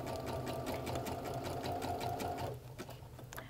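A Baby Lock sewing machine stitches steadily with a rapid, even mechanical whir that runs loud and continuous, then stops abruptly, leaving a few faint clicks and handling sounds.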